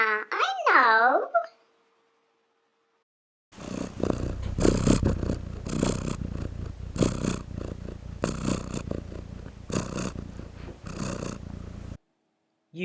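A voice is heard briefly, then after a pause a cat purrs loudly nearby, its rumbling swelling and easing in regular breath cycles for several seconds.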